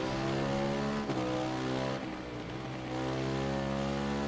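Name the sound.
motorcycle engine in video game Ride 3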